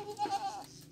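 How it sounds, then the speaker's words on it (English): A single short, faint goat bleat with a wavering, nasal quality, heard briefly against quiet background noise. "Oh gosh, this is a goat."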